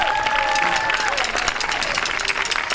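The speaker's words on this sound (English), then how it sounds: "Round of applause for those saxophones" An audience at a school band concert applauds the saxophone players, steady dense clapping that fills the room throughout, with faint voices mixed beneath.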